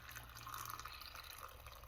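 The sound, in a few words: pouring water into a mason jar of pickled onions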